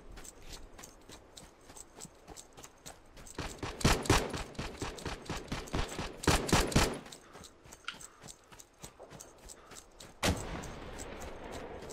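Rapid automatic gunfire in the World War II shooter Hell Let Loose, with bursts of close, loud shots and more distant crackling fire that rise and fall in intensity.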